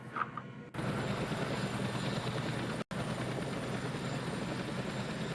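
A Hind attack helicopter in a video game drones with a loud, steady rotor roar that fills the whole clip, cut by one brief dropout midway.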